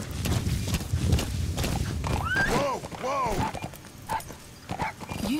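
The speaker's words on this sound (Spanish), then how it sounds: "Caballo, lo estamos usando como un todoterreno." A horse in the video game Metal Gear Solid V: The Phantom Pain clip-clops along at a steady pace and lets out a brief whinny midway, all under continuous talking.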